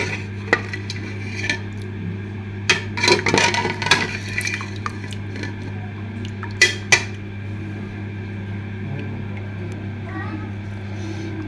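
Metal cooking pots clank and clatter in a home kitchen while mutton white pulao is made and oil goes into a second pot; sharp knocks come in scattered bursts over a steady low stove hum.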